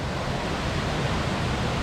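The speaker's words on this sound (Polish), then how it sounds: "Wodospady są piękne." Rapana Waterfall in Ella, Sri Lanka, roars as a steady, dense broadband rush of falling water, constant and unbroken with no voices.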